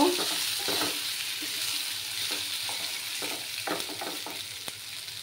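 Tengra fish and potato being stirred in a frying pan after the lid comes off, a steady sizzle with scattered scraping stir strokes, close and moderately loud, no voices.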